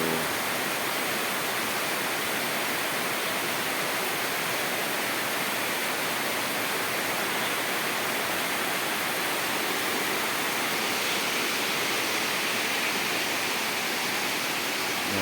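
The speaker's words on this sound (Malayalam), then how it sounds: "ഇവിടെ അതേപോലെ ഓണായി നല്ല മഴയാണ് കേട്ടോ" Heavy evening monsoon rain falls steadily outdoors under street lights, a dense, unbroken hiss that stays loud and even from start to finish with no voices.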